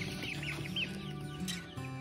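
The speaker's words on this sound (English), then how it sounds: "let's load up these chickens" Several chickens (Novogens, Whiting True Blues and Welsummers) cluck and murmur close by, overlapping low throaty calls with a few higher squawks, steady and busy.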